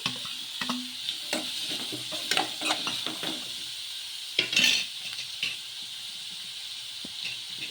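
Vegetables for wheat semolina ponganalu are stirred in a pan with a soft steady sizzle, scraping strokes repeating irregularly near the microphone alongside occasional clinks of the utensil.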